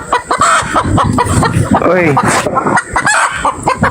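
Loud chicken clucks and rooster-like crowing blare throughout during a live stream, mixed with a voice talking and exclaiming over the busy, continuous fowl sounds.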